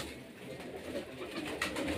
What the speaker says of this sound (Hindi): के ब्रीडर कबूतर।